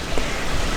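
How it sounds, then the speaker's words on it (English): A small creek running full after a night of heavy rain gives off a steady, even rush of water, constant and close, with no breaks through the short stretch. "there's a background noise of water. This little old creek is slap full right now."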